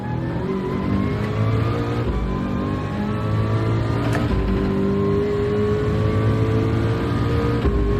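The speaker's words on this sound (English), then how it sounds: "It's not the nicest handling car, this Ford, it has to be said." A Ford race car engine in Gran Turismo 7 drones steadily at high revs with shifting harmonic tones, gear changes briefly dipping the pitch; a continuous close, loud roar with no talking.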